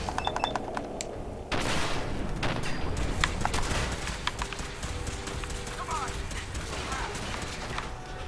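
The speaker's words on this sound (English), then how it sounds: "The fact that we're getting our asses shot in?" Game gunfire in Fallout 4 crackles in rapid bursts and scattered single shots, fairly close and loud, over a dense bed of combat noise and hoofbeat-like clatter, with voices talking throughout.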